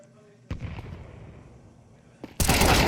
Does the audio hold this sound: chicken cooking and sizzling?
no